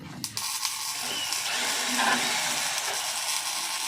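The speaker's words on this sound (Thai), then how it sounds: "ให้ช่างอมอดเจาะเสร็จ" Drilling on a DC 70 rice harvester under repair, where the threshing drum housing is being fitted with spring mounts; a steady broadband mechanical whine and grind runs throughout, fairly loud and continuous, with a brief clatter at the start.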